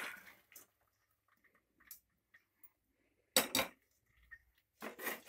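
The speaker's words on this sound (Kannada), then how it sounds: "ಈಗ ಸ್ಟ್ರೈನರ್ಗೆ ಹಾಕ್ತಾ ಇದ್ದೀನಿ." Cooked avarekalu and beans from a pressure cooker tipped into a strainer: short splashy pours and light metal clinks in separate bursts, with near-silence between them.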